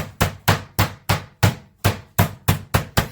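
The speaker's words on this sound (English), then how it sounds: "use your solid side of your chicken pounder or your meat pounder" Eleven heavy, dull thuds of a meat pounder striking chicken on a board, close and loud, in a steady rhythm about three per second.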